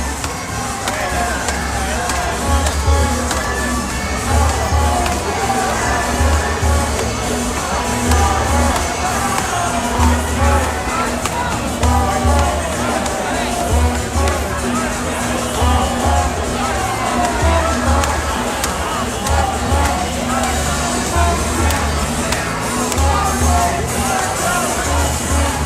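Crowd at an anti-ICE protest in Minneapolis, a continuous loud outdoor babble of many voices with shouts, rhythmic chanting and occasional bangs throughout.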